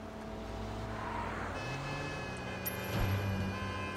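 A city van engine in the video game Sleeping Dogs drones steadily as it drives, with a low hum that rises slightly toward the end, moderately loud, without speech.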